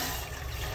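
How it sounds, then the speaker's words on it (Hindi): Water pours into a cooking pot on a gas stove as a steady, close, full rushing splash that lasts under a second, with no talking. "उसमें थोड़ा पानी डालिए"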